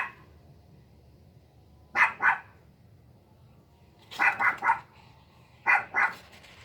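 A dog barks in three separate bursts of two or three sharp barks each, fairly close and loud over a quiet room background, with no talking.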